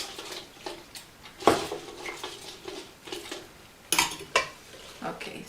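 Onion greens are packed into a small food processor bowl with a string of sharp plastic knocks and clatters, louder hits near the middle and toward the end, close up with no talking.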